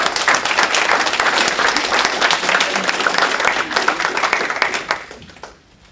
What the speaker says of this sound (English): Let's give her Samiya a round of applause.